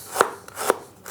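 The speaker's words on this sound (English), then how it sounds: "You just slice it up like so," A kitchen knife slices through fresh knobby ginger on a cutting board, two crisp close chops about half a second apart.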